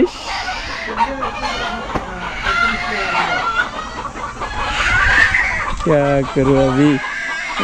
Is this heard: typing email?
no